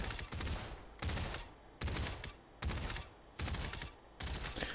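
An MK18 rifle fires in sharp, rapid bursts in the VR shooter Population One, about six evenly spaced volleys separated by brief pauses, loud and close with no talking.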